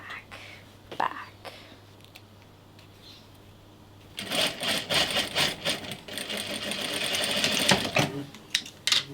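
A sewing machine stitches the side seam of a patchwork dress, starting after a few quiet seconds with rapid rattling bursts that grow into a busy, close whirring run, with soft voice sounds early on.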